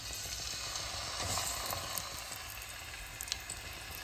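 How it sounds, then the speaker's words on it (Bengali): Food fries in a small amount of oil in a wok, giving a steady, fairly quiet sizzle with a few faint crackles and no talking. "অল্প আছে ভাজতেছি"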